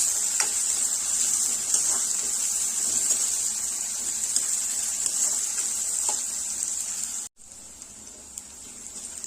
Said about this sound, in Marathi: यामध्ये आपण घालणार आहोत टोमॅटो। टोमॅटो थोडासा आपल्याला सॉफ्ट करून घ्यायचा आहे।